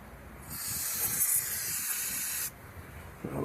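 Brake cleaner sprays in a loud, steady aerosol hiss onto the engine of a 1962 Panhead chopper, starting after a brief pause and cutting off abruptly about two seconds later, followed by low handling noises.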